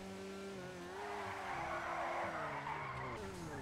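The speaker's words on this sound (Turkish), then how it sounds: "Bakın bayağı da güzel kayıyor." A Lada Cheburek drifts in GTA 5, its tires skidding in a sustained, wavering squeal over a steady engine drone for several seconds, loud and close with no talk.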